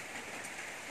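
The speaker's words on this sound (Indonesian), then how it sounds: "Jadi hujan lebat, suasana masih lagi kelam." Heavy rain falling at night in a flower park around 4 a.m., a dense, steady broadband hiss with no breaks, fairly faint and continuous throughout.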